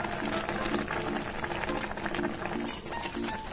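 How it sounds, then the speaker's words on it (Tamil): Semiya vermicelli bubbles and sizzles in a pan while being cooked for a sweet dessert, giving a steady, busy simmering hiss with soft tonal patches and a brief brighter burst near the end. "சேமியா வந்து நல்லா குக் ஆயிடுச்சு"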